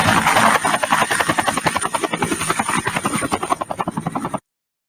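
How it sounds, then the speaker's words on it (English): A helicopter sound effect with loud, rapid rotor blade chopping that pulses steadily and close for several seconds before cutting off abruptly. "You could click another button and have a helicopter land."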